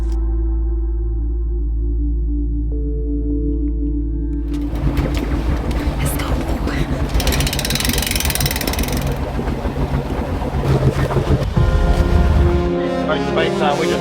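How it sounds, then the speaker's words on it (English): A low engine hum idles, then a jet boat's loud rushing roar takes over on a river near Pipiriki, New Zealand, mixed with churning water, holding steady before shifting near the end. "we're almost at the extraction point to get to Pipriki on a jet"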